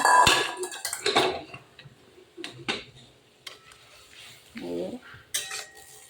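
Pot and utensil clatter with scraping stirring as green chili, oil and water go into a pan of jute leaf greens cooked with garlic; irregular clinks and knocks, close and moderately loud, with brief pauses between.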